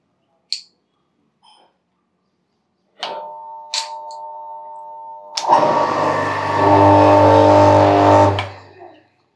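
A half-horsepower water pump motor hums into life after its shaft is nudged with a screwdriver, a steady, loud electric drone lasting about three seconds before cutting off, preceded by faint clicks and a brief tone.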